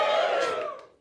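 A comedy club crowd lets out a loud, brief cheer that swells and then fades out within about a second.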